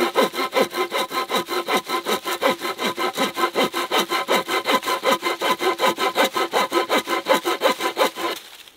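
Hand sawing through wood with the saw blade of a COMBAR survival multitool, steady rapid back-and-forth strokes, loud and close, around twenty rhythmic rasping cuts with no talk.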